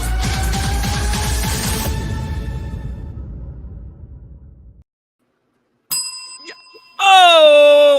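A bell sound effect on a livestream rings out near the end as clear chiming strikes, following a fading stretch of other sound and a brief silence, then continuing into bright, sustained ringing.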